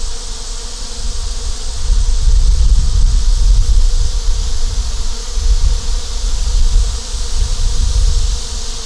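Honeybees cluster outside the hive in hot weather, producing a dense, loud, continuous buzzing drone close by that swells and eases slightly over time.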